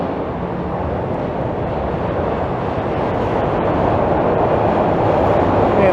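Northbound Toronto subway train rumbling steadily and loudly for the whole stretch, a dense broadband roar from inside or beside the car that swells slightly toward the end, with no talk.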